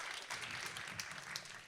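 Brief audience applause at an awards ceremony, a short burst of clapping from a crowd, fairly faint and steady.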